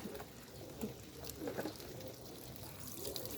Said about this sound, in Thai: ล้างบั้นท้ายอันสะบรึมพึ่งของนมข้นก่อน